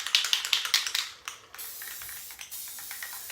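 Clear gloss spray paint hissing from an aerosol can in short rapid bursts, then a longer sustained spray with light tapping, close and fairly loud with no talking.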